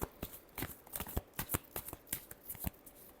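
Tarot cards are shuffled close up in a quick, steady run of soft riffling flicks and slaps, quiet and alone with no voice.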